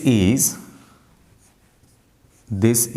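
Writing on a board or paper during a class 12 maths lesson on derivatives, a faint, soft scratching in a quiet pause between stretches of a man's explanatory speech.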